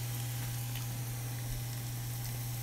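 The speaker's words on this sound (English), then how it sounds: "It sizzles a little bit, right? Got a nice little sound." Soft, steady sizzle of red onions and peppers frying in a pan over a low constant hum, with no voices.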